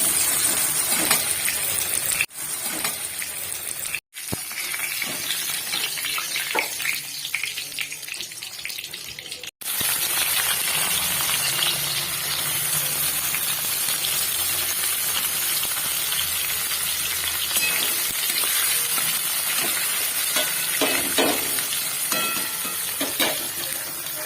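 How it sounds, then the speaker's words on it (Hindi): Large pieces of potato and papaya frying in oil, a dense, even hiss and crackle running throughout, loud and close, broken by a few brief sudden dropouts. "ये आलू और ये पपीता तो बड़ा बड़ा टुकड़ों में काटा हुआ है। इसको फ्राई करेंगे अच्छे से पहले, तो ऑयल में फ्राई करके"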